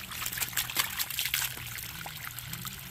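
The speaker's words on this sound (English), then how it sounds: "So now that the packer is deflating down in the well, it allows all the water to flow back that we put down in there." Highly chlorinated water gushing back up a drilled water well after a hydro-fracking packer deflates, a steady close splashing trickle with bursts of spray throughout.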